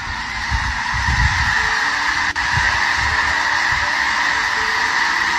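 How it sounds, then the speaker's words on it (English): A huge flock of birds flies low overhead, honking in a loud, dense, continuous clamor that fills the whole stretch with no one speaking. "a bird tsunami of epic proportions"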